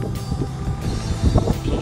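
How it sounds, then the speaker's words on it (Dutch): Strong wind blows hard during a thunderstorm in Friesland, a loud continuous rush buffeting the microphone with rumbling low gusts that swell near the end. "want het waait behoorlijk."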